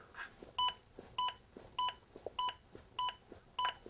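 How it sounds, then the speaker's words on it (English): Adaptive metronome on a CPR training manikin sounding six evenly spaced two-tone electronic beeps, roughly one every 0.6 seconds, with soft thumps of chest compressions between them. "The beeps act as an adaptive metronome that sees my compressions and tries to speed them up."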